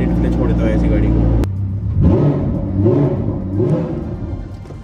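A car engine cuts from a steady loud rumble into a series of rising revs and blips after sitting through a cold start, with someone talking over it in Hindi.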